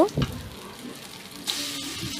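Cabbage pakora batter spoon-dropped into hot oil, with a brief bubbling burst early on, then a steady close sizzle that swells noticeably louder partway through and holds to the end.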